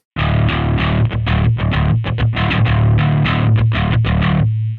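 A heavily distorted Fender Jazz Bass in drop D tuning plays a loud, gritty riff, with low notes chugging in quick rhythmic bursts and short gaps.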